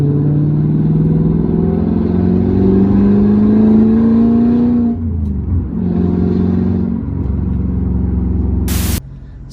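A Mercedes E55 AMG converted to a six-speed manual pulls away with a deep engine drone that climbs in pitch under load, then drops as the driver shifts and the revs settle into a steady rumble; no talking.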